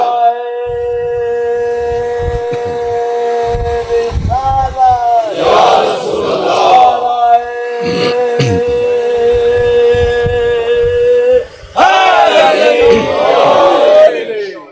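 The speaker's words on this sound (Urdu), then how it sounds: "بلند نعرے کا جواب دے اور بیدار ہو کر جواب دے۔" A majlis crowd gathered for Muharram mourning roars a slogan back in loud unison, two big surging chants of many voices, set against a sustained droning tone and a leader's amplified calls.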